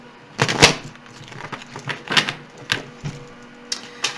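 Tarot cards are shuffled in quick crisp bursts, riffling and snapping close by in uneven clusters with short pauses.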